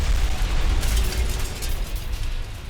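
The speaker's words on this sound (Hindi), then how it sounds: "हॉटजियर तोप से यूक्रेन पर भारी फायरिंग विद द वीडियो।" A Russian howitzer fires during shelling in Ukraine: loud, deep booming blasts and rolling low rumble fill the stretch, fading slightly toward the end, with no voices.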